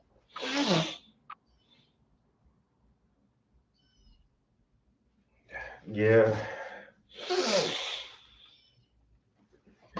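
Three sharp, loud sneezes, one near the start and two close together later, with quiet pauses between and a brief spoken word.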